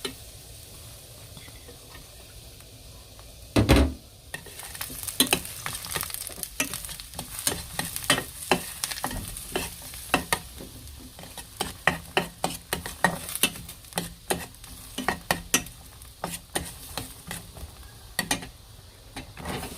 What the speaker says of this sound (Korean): 들기름으로 시작할게요. 자, 마늘을 좀 볶다가